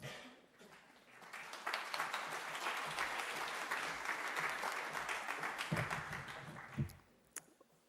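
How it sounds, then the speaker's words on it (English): Audience applause fills a conference hall at an EU competition day event, steady clapping from many hands that swells quickly and holds, then thins into a few scattered claps near the end. "getting applause even before even starting"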